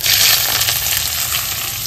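Black cumin seeds crackle in hot oil as a tempering for dal, a brief, loud, close hiss of sizzling that eases slightly as it goes.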